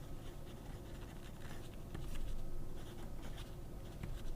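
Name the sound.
Montblanc 149 fountain pen with medium nib writing on paper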